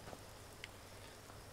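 Steady rain falling in the video game Skyrim, a constant soft hiss with faint scattered drops, heard alone and fairly quiet throughout.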